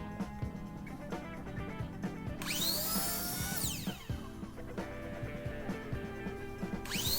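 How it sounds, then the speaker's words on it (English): A miter saw cutting wood pieces to length for a mailbox post spins up with a rising whine and bites through twice, once for about a second and then again briefly near the end. Quiet workshop clatter and hum run underneath. "I'm starting by cutting some pieces to length on the miter saw."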